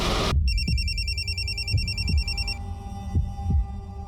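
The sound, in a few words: telephone ringing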